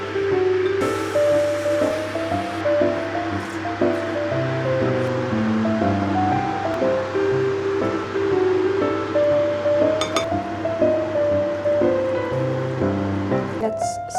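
Tap water running while a rice cooker with leftover rice is washed out, a steady rushing splash throughout beneath tuneful background music.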